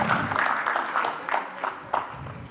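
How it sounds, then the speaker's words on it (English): Scattered clapping from an audience at a walnut industry conference honours speakers on stage, uneven and moderate in volume, with a few sharper claps standing out. "Let's give them a big round of applause."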